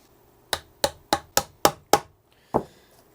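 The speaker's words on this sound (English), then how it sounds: "We're going to take a center punch." Seven sharp metallic taps from a center punch marking holes on a guitar, six coming in an even, quick rhythm and one more after a short pause, close and clear against near silence.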